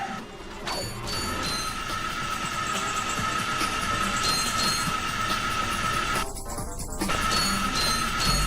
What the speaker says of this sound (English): Grind rails, chat.